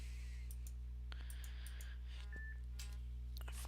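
A telephone in a video game beeps and dials in a rapid, erratic series of short electronic tones and clicks over a constant low hum, fairly quiet.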